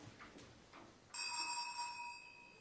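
A bell rung by a countess to summon a servant in a period household, a single clear ringing peal that starts suddenly after a quiet moment and sustains loudly to the end, with no talk.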